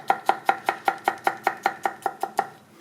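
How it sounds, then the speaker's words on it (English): A knife chopping garlic on a cutting board, about a dozen crisp, evenly spaced taps in quick steady rhythm, close and clear, with no talking. "when you dice the garlic, just kind of like an onion, you do little slits across"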